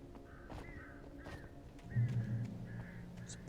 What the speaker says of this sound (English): There's a bunch of fucking birds around him.